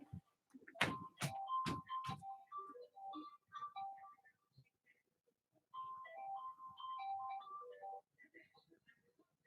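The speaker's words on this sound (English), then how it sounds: "I think my phone's ringing." A phone ringtone plays a bright electronic melody, pausing briefly before repeating, with faint background noise between phrases.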